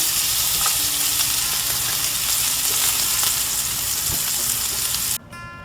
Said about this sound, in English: I am going to take my scallops off the grill